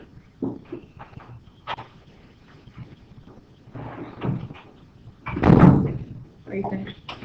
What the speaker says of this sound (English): Let me grab that door for me, please.